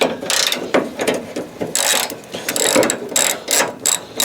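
Ratchet wrench undoing bolts on the bumper of a crash-damaged Fiat 500, giving bursts of fast, close clicking pawl ratcheting that repeat in several strokes with short pauses between them.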